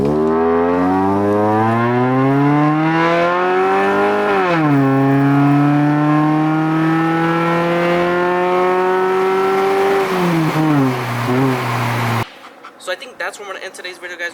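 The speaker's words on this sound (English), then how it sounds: "I personally think this exhaust sounds way better than the last one" A Scion tC fitted with a fully custom exhaust and muffler revs loudly and steadily, its tone rising, holding, then dropping over several seconds before cutting off abruptly into brief clatter.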